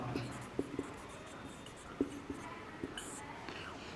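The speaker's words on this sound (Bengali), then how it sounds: "আমরা লিখলাম এখানে প্রথম ধাপ।" Marker or chalk strokes on a board during a chemistry lesson, a few short scratchy taps and squeaks spaced irregularly, close and quiet, with faint breathy background.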